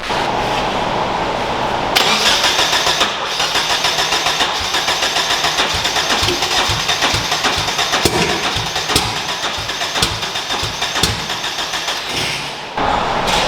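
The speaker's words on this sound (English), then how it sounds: "it doesn't sound like it's running on more than one cylinder" A Nissan KA24 engine in a 240SX runs rough and unevenly, with irregular pops and sputters over a steady loud mechanical drone, close by and with no talking.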